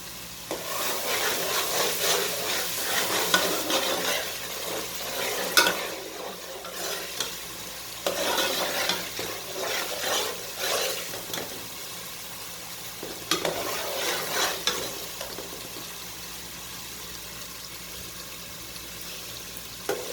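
Tomato masala cooks in a pan as a spatula stirs and scrapes in several bursts over a soft, low sizzle, with quieter stretches between the strokes and no one talking.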